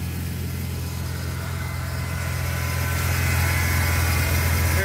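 A Ford F-150 engine idles steadily during an EGR valve test, a continuous low rumble that swells slightly louder toward the end, close up with no voices.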